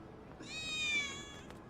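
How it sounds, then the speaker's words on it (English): A single short, clear meow from a cat in Final Fantasy 7 Remake Intergrade, rising then falling, heard close and alone against a faint background hum. "I think one of Betty's cats might be here."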